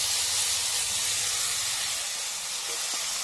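Spice paste for shukto hits hot oil already holding bay leaves and Bengali five-spice, giving a steady, loud, close sizzling hiss that lasts throughout with no talking.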